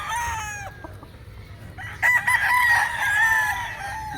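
A gamefowl rooster crows close by, a short call followed by a longer, louder harmonic crow over low background rumble.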